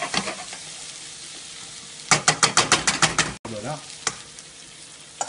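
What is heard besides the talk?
sautéing grain in a pan until pearly (nacrer)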